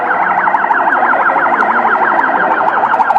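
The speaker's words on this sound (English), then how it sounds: "The ambulance going." An ambulance siren wails loudly and continuously in rapid rising and falling sweeps in the streets of Kampala after explosions, close and dominant with no speech over it.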